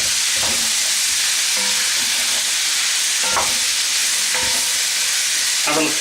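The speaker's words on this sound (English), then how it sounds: "it's time to add your celery, carrots and parsnip. Give that another stir or two." Celery, carrots and parsnip sizzle steadily in a hot pan under a constant frying hiss, with a spoon scraping and stirring through them in several close, irregular strokes.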